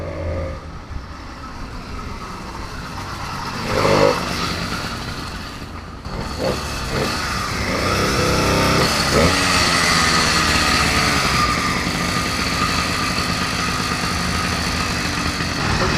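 An 80cc motorized bicycle engine, just repaired after a broken axle, sputters to life and settles into a steady, buzzing run that stays fairly loud and close for most of the stretch.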